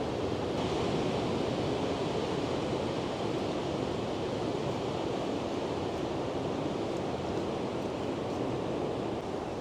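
Steady roar of surf waves breaking along the Scarborough seafront, a continuous broadband wash with some wind across the microphone, no voices.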